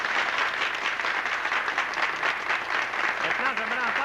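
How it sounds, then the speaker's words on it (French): Applause from a crowd at a 1978 community evening gathering in Normandin, Quebec, sustained steady clapping with some voices mixed in toward the end. "On peut l'applaudir."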